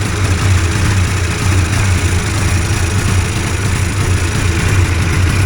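A hurricane hovercraft engine idles steadily after starting, a loud, constant low rumble with a dense broadband roar close by and no speech.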